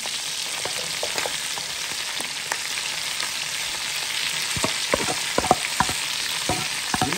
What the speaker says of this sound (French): Alors, là, je vais mettre les oignons.